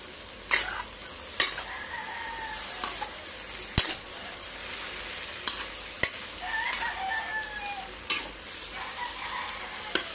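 Egg and tomato frying in a pan, with a constant soft sizzle punctuated by sharp utensil taps and scrapes, and a rooster crowing faintly in the background twice.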